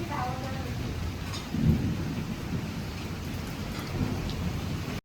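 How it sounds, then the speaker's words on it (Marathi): Steady daytime rain falls with a low thunder rumble underneath, one brief louder crack of a nearby lightning strike partway through, and faint voices in the background. "बाहेर मस्त पाऊस सुरू आहे"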